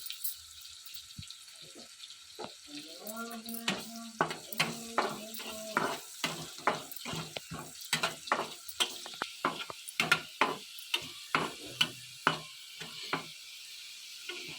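Sliced onions fry in hot oil for birista, a soft steady sizzle punctuated by repeated sharp scraping and stirring clicks from a utensil in the pan, close and moderately quiet.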